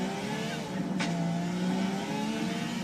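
Car interior with a steady low engine drone while driving, continuous and fairly loud throughout, with a brief higher whine partway through.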